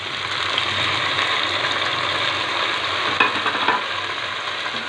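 Tomatoes hit a pan of frying haleem masala and get stirred, a steady broadband sizzle running throughout with a couple of brief scraping clatters near the end.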